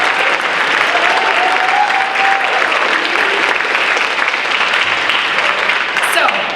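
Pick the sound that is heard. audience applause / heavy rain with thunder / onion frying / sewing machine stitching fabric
audience applause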